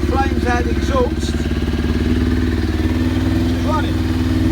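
A Kawasaki 636 motorcycle engine runs roughly after backfiring, a loud, continuous close-up idle throb with someone talking over it.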